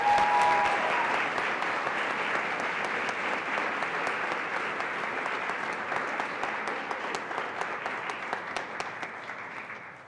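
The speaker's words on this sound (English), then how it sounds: "let's please give a round of applause for Ms." A school audience at a senior awards night claps for a departing staff member, Ms. Natalie Krause, in a long, dense round of applause that starts full and slowly thins and fades over about ten seconds.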